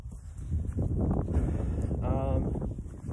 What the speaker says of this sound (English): It's kind of windy out right now.